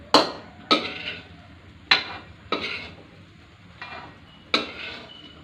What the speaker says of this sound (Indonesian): Aduk hingga rata.